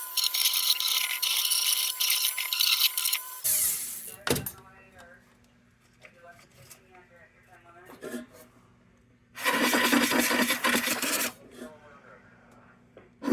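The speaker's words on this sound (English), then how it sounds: "I'm going to get inside the manifold here and just swish this around a little bit" A brush scrubs and swishes inside the manifold of an Embury Supreme No. 242 lantern in two loud, raspy bursts with a metallic clatter between them, while someone talks in the quieter stretch.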